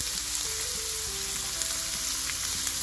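Onions and garlic sweating in a pan for meatballs in tomato sauce, giving a steady, gentle sizzle and frying hiss that runs unbroken and close by, with no talking.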